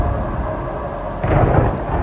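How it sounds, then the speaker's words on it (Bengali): A dense wash of heavy rain with a deep thunder rumble swelling up partway through, close and loud, with no voices. "চারপাশে কেবল বৃষ্টির শব্দ ঝড়ো হাওয়া আর কাদায় ভরা অন্ধকার পথ"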